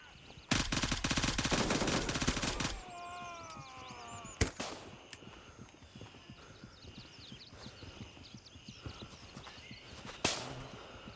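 Automatic gunfire in the Gray Zone Warfare video game: a dense, loud burst of rapid shots for about two seconds, then a few single sharp reports amid a busy jungle ambience with distant chirping, no talking.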